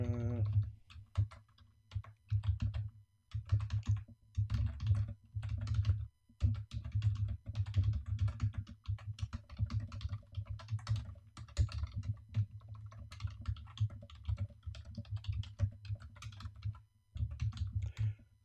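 Typing a prompt on a computer keyboard: close, rapid clicking keystrokes in irregular bursts with short pauses, over a low steady hum.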